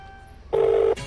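A telephone call rings on the line: one brief, steady ring tone of about half a second, clear and close, followed by faint background noise.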